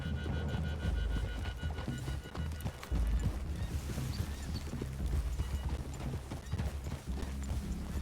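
Horses in Red Dead Redemption 2 clip-clop close by, with uneven hoofbeats thudding on the ground and an occasional snort or whinny in the steady outdoor ambience.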